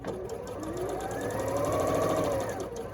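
A sewing machine stitches a quarter-inch seam on a quilt block with a steady, fast mechanical whirring and rapid needle ticking. The sound is close and continuous throughout.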